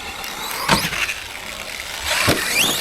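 An Arrma Granite 3S BLX RC car with a metal center diff whirs and rattles in two short bursts, loud and close, with quieter mechanical chatter between them.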